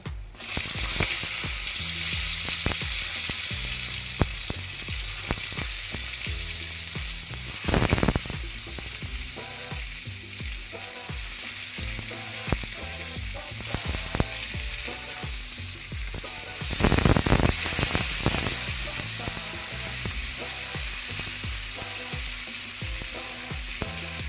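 Eggplant and tomatoes fry in a pan with a loud continuous sizzle that swells in two bursts as pieces are added and stirred, and a spatula scrapes intermittently.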